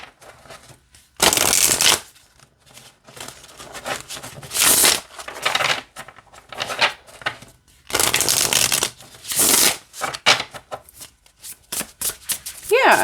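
Oracle of Destiny cards are shuffled in several bursts of crisp riffling and snapping, close by, with brief pauses and some talk between the shuffles.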